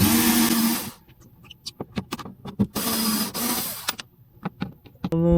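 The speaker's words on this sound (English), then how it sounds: "we're going to get our little Ryobi here and unscrew these screws so we can see what's behind here" A Ryobi cordless drill whirs in bursts as it backs out Torx panel screws on a Skeeter ZX150 bass boat, with clicks and rattles of the bit and screws between runs.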